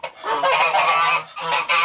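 Geese honk in a farm pen shared with roosters, Muscovy ducks and other ducks, giving loud, close, repeated nasal honks in a quick burst.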